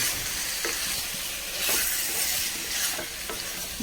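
Masala powder being stirred into chicken roast in a pan, with steady scraping strokes over a continuous close sizzle of frying, no voices.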